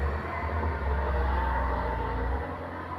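A brown Puso truck grinds uphill at Kedabuhan, its diesel engine laboring in a loud, steady low drone that eases slightly near the end.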